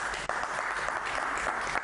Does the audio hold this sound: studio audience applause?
yes